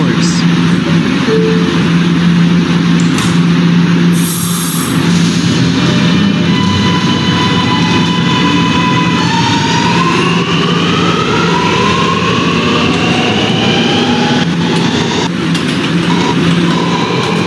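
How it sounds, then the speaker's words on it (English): A westbound R subway train running on the N line rumbles steadily from inside the car, with wheel and motor whine rising in pitch as it gains speed and a continuous loud drone throughout. "a West Batop bound R train via the N line"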